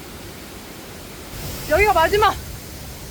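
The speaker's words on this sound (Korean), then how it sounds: "아 물소리 시원하다." Rushing water from a waterfall, a broad, steady hiss that fills the whole clip, with a person briefly speaking over it partway through.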